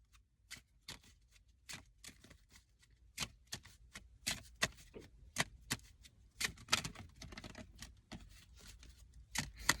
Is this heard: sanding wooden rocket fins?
no